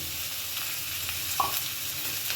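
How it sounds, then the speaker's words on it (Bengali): Vegetables being stirred and fried in a pan with salt and turmeric powder for a light vegetarian curry, giving a steady soft sizzle with light scraping and one brief clink from the stirring. "একটু নাড়াচাড়া করে নেব"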